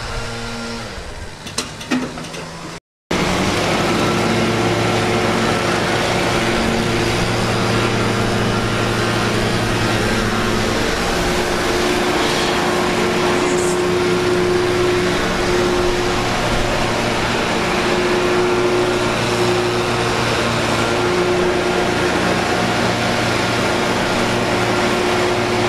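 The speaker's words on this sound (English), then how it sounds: "Gonna break out the blower" Leaf blower at a beach-side mowing job on a cold day, switched on after a brief pause and then running loud and steady with a constant engine whine, close by and uninterrupted.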